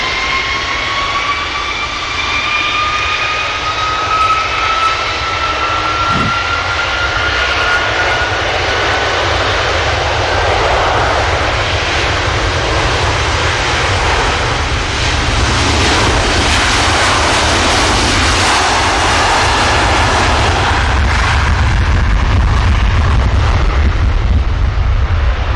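A Virgin Atlantic airliner takes off from runway 23 left at Manchester Airport, its jet engines roaring at full power in a long, rumbling build with a high whine fading early, loud and sustained.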